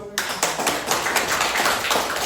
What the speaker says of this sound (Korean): 큰 박수로 환영해